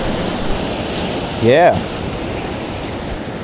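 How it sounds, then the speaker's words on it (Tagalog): Large ocean waves break at a rocky fishing spot, a steady loud surf roar with wind, and a voice cuts in briefly. "May malalaking alon."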